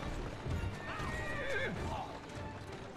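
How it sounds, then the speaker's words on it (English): Horse in the video game Assassin's Creed Syndicate, with a loud whinny over steady clip-clopping hooves and carriage noise, no talking. "Who's a good horse? You are."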